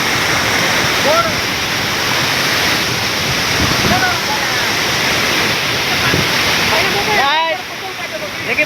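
Surjyagad Waterfall in Kashipur roars as a loud, steady wash of falling water close by, with people talking faintly over it.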